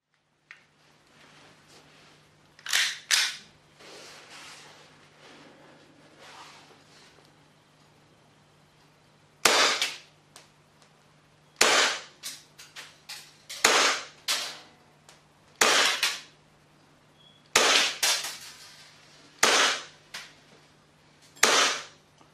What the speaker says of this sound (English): I'm firing at this target using a pistol straight out of the box.